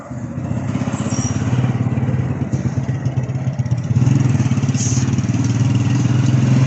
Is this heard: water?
no